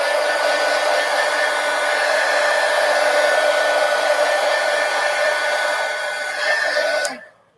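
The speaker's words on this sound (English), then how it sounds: "let me dry this real quick" A hair dryer blows steadily and loudly on an art journal page for about seven seconds, then cuts off abruptly.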